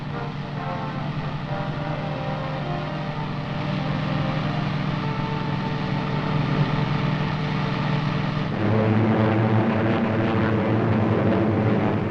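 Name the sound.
WWII Allied aircraft flying on bombing raids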